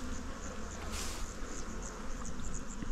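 Honeybees buzz around their hives at an apiary, a dense continuous hum of many insects close by, with individual bees droning past now and then and one brief louder pass near the mic.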